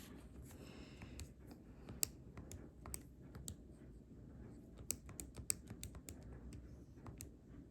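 Keys on a graphing calculator pressed in a quiet room, a series of soft, irregular clicks and taps, faint and close.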